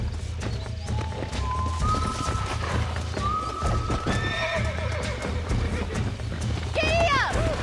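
A horse in the Red Dead Redemption video game whinnies loudly a few times, high and wavering, over a steady drumming of galloping hooves that continues throughout.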